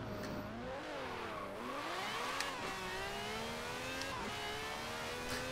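A car accelerating hard from a standstill in the Forza racing game, engine revving upward through repeated gear changes with rising, falling whine, steady and alone without talk.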